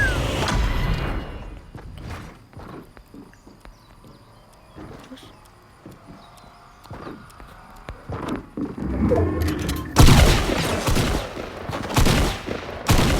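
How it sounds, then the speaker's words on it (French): Rocket launcher attack in a solo arena video game, with sharp explosive blasts and crackling gunfire at the start and a louder burst of impacts near the end, separated by quieter stretches of scattered hits and game noise. "le coup du lance-roquette, ça m'a beaucoup surpris"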